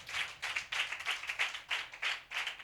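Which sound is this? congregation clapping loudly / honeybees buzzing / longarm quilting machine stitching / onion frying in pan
congregation clapping loudly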